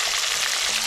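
Peanuts fry in hot oil, a brief, bright and constant sizzle heard up close without pause.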